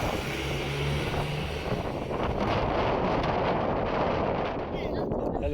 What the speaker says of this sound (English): Once the sun is gone, the Danakil depression turns surprisingly windy.